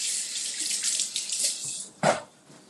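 Water runs from a kitchen sink tap as hands are rinsed under it during a live salad-making demonstration, a steady broad hiss with a brief louder splash near the end.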